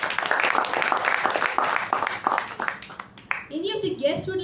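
Clapping from a Toastmasters meeting audience, a burst of applause that thins out over a few seconds before a person starts talking.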